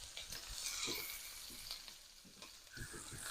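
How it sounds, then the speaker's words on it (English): Onions brown in a pan with chicken drippings, giving a constant sizzle up close, with repeated spoon scrapes and clacks as they are stirred. Nobody speaks. "we just want to make these, kind of brown these onions a little bit, get them a little bit translucent"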